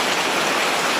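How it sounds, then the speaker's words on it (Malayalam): Heavy morning rain falls steadily in Kottakkal, Kerala, a loud, dense, unbroken wash of rain without any distinct thunder in this brief stretch. "ഇവിടെ മഴയുണ്ട്, നല്ല ഇടിയുണ്ട് കേട്ടോ"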